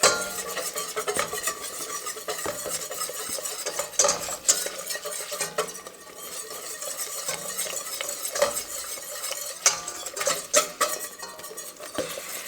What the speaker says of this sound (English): add 1 3/4 cup of all-purpose flour while I whisk it in, because we really want to get this well blended